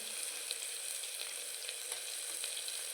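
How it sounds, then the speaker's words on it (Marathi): Oil sizzles steadily as turmeric fries in tempering, a continuous hissing crackle with scattered small pops, fairly quiet and close. "अर्धा चमचा फोडणीमध्येच हळद टाकून घ्यायची आहे"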